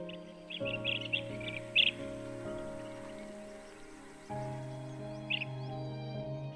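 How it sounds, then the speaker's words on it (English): Blue-tailed bee-eater giving a few short, clear chirping calls early on and once more later, faint to moderate, heard over a steady background of sustained music. "The blue-tailed bee-eater is a near passerine bird in the bee-eater family."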